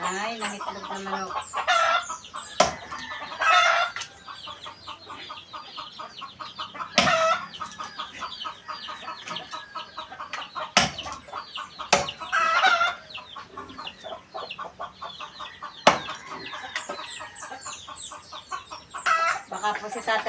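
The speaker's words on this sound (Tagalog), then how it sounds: "Ay, nangitlog na manok." Steady rhythmic clucking from a hen that has just laid an egg continues at length, punctuated by loud cackling bursts and sharp squawks, with more fowl audible nearby.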